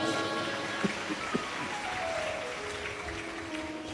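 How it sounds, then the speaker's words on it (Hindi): Crowd applause at a Shiv Mahapuran katha by Pandit Pradeep Mishra, a dense, steady wash of many hands clapping that runs without pause at moderate loudness. "एक बार जोरदार ताली बजाओ"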